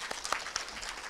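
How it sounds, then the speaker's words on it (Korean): Brief, soft applause from an audience welcoming an artist to a screening talk, a scattered patter of hands at moderate distance with no voices. "박수로 맞아 주시기 바랍니다."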